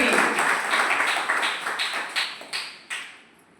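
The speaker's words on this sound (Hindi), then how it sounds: "एक जोरदार ताली होना चाहिए हमारे दोनों मॉडल" Audience clapping for two models at a gathering, a dense burst of many hands that thins into a few separate claps toward the end.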